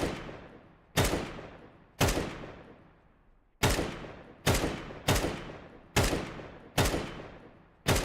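Gunshots in Counter-Strike 2, eight single sharp loud reports spaced about a second apart, each with a decaying tail, no talk.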